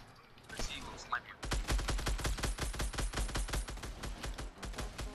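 Rapid bursts of automatic gunfire in the Fortnite battle royale, solid gold mode with legendary weapons, dense close shots firing in a fast continuous stream after a short quieter opening.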